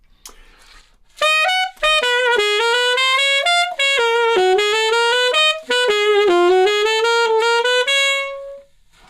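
A solo alto saxophone plays a lively melodic phrase from the middle section of a piece, quick distinct notes ending on a held tone, clear and close.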